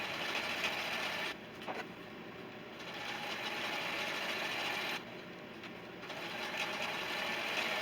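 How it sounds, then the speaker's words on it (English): A sewing machine stitching quilt pieces for a star block, a steady close mechanical whir that pauses briefly twice and then resumes, with no speech. "Just sewing on either side of that line."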